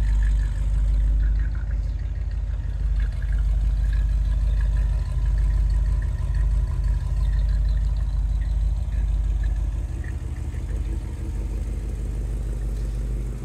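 A 1965 Ford Thunderbird's rebuilt 390 engine runs at a steady idle, with a deep, continuous low rumble and slight exhaust-leak ticking from the manifold, close and unbroken throughout with no talking.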